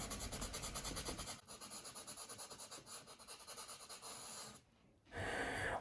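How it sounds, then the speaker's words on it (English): Fingernail sanding stick smoothing a polystyrene panel on a King Tut sculpture, rapid rhythmic back-and-forth rasping strokes, close and soft, pausing briefly near the end before resuming. "And then I come back with a sanding stick, a fingernail sander basically, and just smooth everything out"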